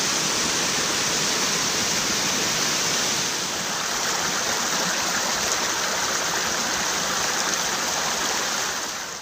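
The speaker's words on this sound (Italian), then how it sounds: "E sto andando alla cascata qua a Borca" A waterfall at Borca pours down in a steady, dense roar of rushing water that stays loud and close for the whole stretch, with no voices over it.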